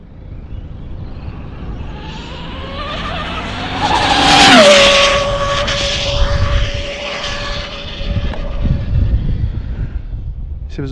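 An RC car's small motor screams at full throttle, its whine sweeping up to a peak then holding as it passes nearby, with tire noise beneath.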